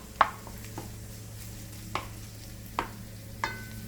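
Vegetables with ginger softening over low-to-medium heat in a pan, a low steady sizzle with a few distinct knocks and scrapes of stirring, close and quiet.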